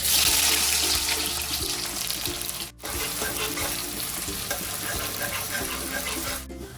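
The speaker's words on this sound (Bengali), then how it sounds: "কড়াই গরম হলে পরিমাণ মতো তেল দিয়ে এবার দিয়ে দিব পেঁয়াজ" Sliced onions frying in hot oil in a kadai, heard close as a steady crackling sizzle with stirring, a brief break partway through, and no voices.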